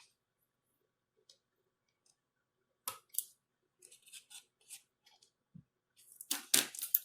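Scissors snip through leftover craft material in a quiet room, a few isolated clicks at first, then a cluster of crisp cuts building to louder, rapid snips near the end.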